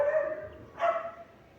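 A dog gives two brief barks or yips at close range in a home garage during assembly of a Volkswagen Fusca 1300 turbo engine, with a quiet background.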